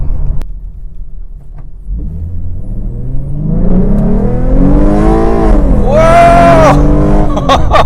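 A tuned 2014 Ford Mustang V6 accelerating hard, its engine note rising steadily and growing loud, close up from inside the car, with a rumbling low end and a brief excited shout near the end.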